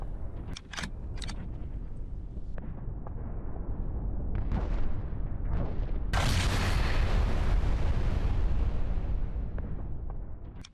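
A drone destroyed mid-air: a loud, sustained blast roars out after several sharp pops, broadband and rumbling, then slowly fades.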